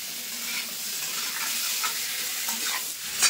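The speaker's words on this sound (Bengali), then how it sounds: "খুব সুন্দর করে আমি ভেজে নিয়েছি আমগুলো" Mango pieces for mango pickle stirred and fried in a pan, a steady close sizzle with intermittent scraping stir strokes throughout, no talk.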